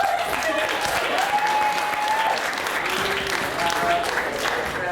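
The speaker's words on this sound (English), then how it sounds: "Big round of applause for Rachel, if you will." Studio audience applause at a comedy quiz show, steady crowd clapping sustained at moderate volume for about five seconds, with a voice speaking over it.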